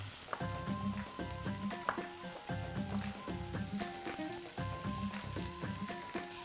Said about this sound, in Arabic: وهبدأ أشوحها مع بعضهم كده في قلب بعض.